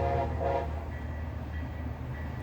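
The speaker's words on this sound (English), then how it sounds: "I even got that shot of a train that I was waiting for." Near San Diego, a train rumbles steadily past at close range, its horn sounding briefly near the start over a continuous low roar.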